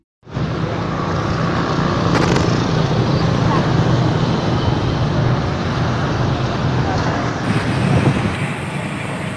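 Heavy street traffic jam beside a roadside takjil food market at dusk during the Covid-19 pandemic: a loud, continuous roar of engines and road noise, close and unbroken, with no clear voices.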